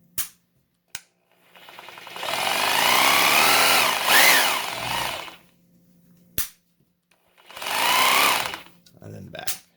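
A Bosch SDS rotary hammer runs in hammer drill mode in two loud bursts of rapid rattling impacts layered over the motor whine, separated by sharp clicks and short pauses.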